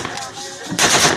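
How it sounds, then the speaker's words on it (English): A single loud, sharp gunshot bursts in partway through the brief clip and rings out, following a stretch of muffled background noise. "You get the gunshot."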